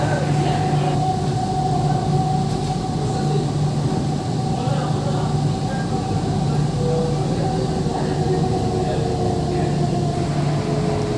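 Kolkata East-West Metro train running toward Sector V, a steady loud rumble and hum of the carriage with a constant tonal whine, filling the whole stretch without letup.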